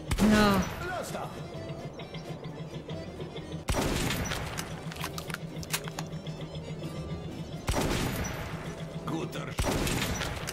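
At a shooting range, loud gunshots crack out at intervals of several seconds, each one sharp with a brief ringing tail, while people talk in the background.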